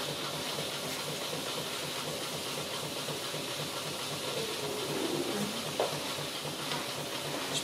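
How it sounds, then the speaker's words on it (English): A PM Research #1 model steam engine, fed by a burner-fired boiler, runs smoothly at a steady, rhythmic chug beneath a constant hiss, fairly quiet and even, with a brief clank near the end. "It's a pretty smooth running engine."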